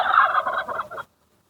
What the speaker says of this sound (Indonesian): di sini kita juga ada kalkun, ayam kalkun